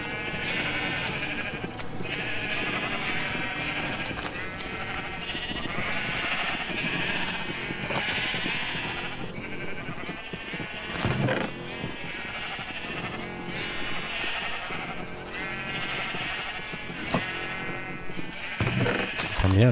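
Minecraft sheep bleat again and again across a steady, fairly loud backdrop of game sound, with the blocky animal calls recurring at uneven intervals.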